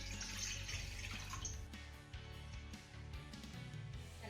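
Water poured from a glass into a kadai on a gas stove, a steady close splash and trickle that fades into lighter dripping toward the end.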